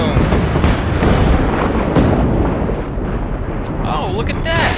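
A nuke explosion in the video game Just Cause 3 roars as loud, sustained, dense rumbling that fills the whole stretch, with faint crackles and whistling debris toward the end.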